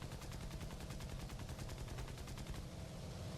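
Video game gunfire sounds as a dense, rapid, continuous automatic burst of shots, steady and fairly quiet throughout, with no talking.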